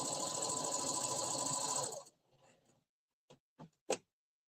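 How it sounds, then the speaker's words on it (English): A sewing machine runs flat out for about two seconds on a straight 3/8-inch seam with a 2.5 mm stitch, a loud steady whir that stops abruptly, followed by a few sharp clicks and clunks of handling. "I'm just sewing at 3/8 of an inch, straight seam"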